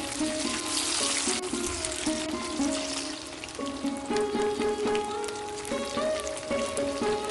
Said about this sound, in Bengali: এবার এই মাছের পিসগুলো তেলের মধ্যে এক এক করে ছেড়ে দিয়ে আমি কড়া করে ভেজে নিচ্ছি।